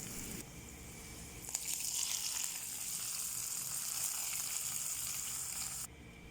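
A hot tempering of mustard seeds, shallots and curry leaves is poured into a fish curry, giving a close, loud, steady sizzle that swells on contact and runs on for several seconds before cutting off; no talking.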